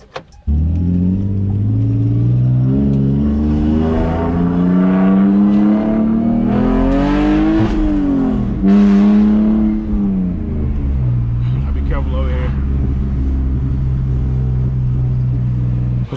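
A BMW E46 with overheating issues drives by, its engine loud and close, revving and climbing in pitch through the gears before settling into a steady rumble, with no voices.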